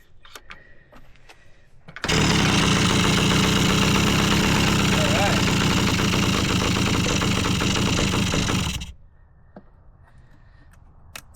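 A Yamaha PW80 dirt bike engine with a new piston and no airbox fires up and runs loud and close for about seven seconds, a buzzy two-stroke drone, then cuts out to quiet.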